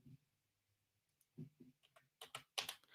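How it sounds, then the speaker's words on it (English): Typing on a computer keyboard, soft scattered keystrokes that speed into a quick cluster of sharper clicks near the end, close and quiet with no talking. "We'll just type that out."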